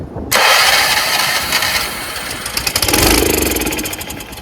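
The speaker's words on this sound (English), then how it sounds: "So we have a good engine. Actually sounds pretty good." A Craftsman rear-engine riding mower's small engine catches and starts up on a cold day, roaring loudly then settling into a steady running rumble with a rattling, pulsing tone.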